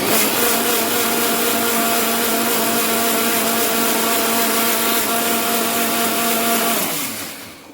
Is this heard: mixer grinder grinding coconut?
yes